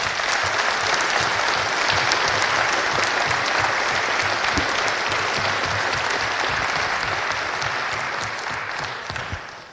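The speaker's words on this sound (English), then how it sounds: "Let's give a round of applause for all 5 of these guys up here." A loud, dense round of applause fills a hockey number retirement ceremony honoring five players, sustained and steady for nearly ten seconds before tapering off at the end.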